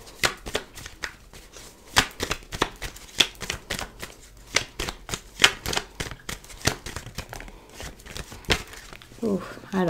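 Tarot deck being shuffled and tapped straight by hand, a quick run of crisp papery slaps and riffles at close range, irregular in rhythm, with a voice speaking at the end.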